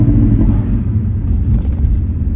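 A stage 1 tuned 420 hp Audi RS3 revs hard while its wheels spin, a deep, close engine rumble that holds steady and loud.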